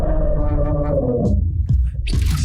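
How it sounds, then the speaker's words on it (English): A synthesized villain sound effect for the Prowler from the animated film Spider-Man: Into the Spider-Verse, a loud, low, eerie drone with layered tonal harmonics that fades and sinks, ending in a short burst of high hiss. "That sound they use for Prowler is insane."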